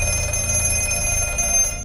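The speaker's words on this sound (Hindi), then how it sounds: "तभी दोबारा फोन बजता है।" A telephone in the film The Black Phone rings continuously with a bright, metallic bell tone, loud and steady for nearly two seconds before cutting off.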